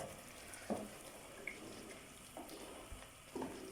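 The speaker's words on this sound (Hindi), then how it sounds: "थोड़ा सा पानी भी ऐड कर दूँगी" Water is poured into a pot of chana and mash lentils cooking in a prepared masala, heard as faint splashes and brief pouring bursts at a quiet level.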